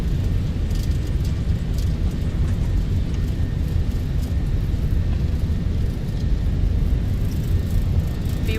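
A320 engines spooled to takeoff thrust in a flight simulator, a steady, loud, continuous roar and rumble filling the whole stretch without a break.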